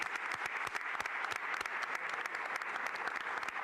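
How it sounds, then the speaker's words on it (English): A crowd at a civic announcement event applauds steadily, with dense, even clapping throughout and no pauses. "if you could stand up for a round of applause."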